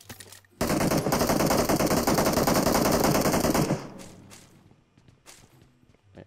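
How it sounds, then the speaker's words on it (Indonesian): Automatic gunfire in PUBG: a loud, continuous burst of rapid machine-gun shots lasting about three seconds after a brief pause, then trailing off into scattered softer shots and footsteps. "Banyak tembakan di sini ya."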